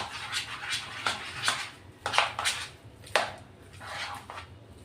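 A batter mixture is beaten in a bowl in a home kitchen, making a run of rhythmic scraping, swishing strokes, about eight of them, fairly close and moderately quiet, with no voices.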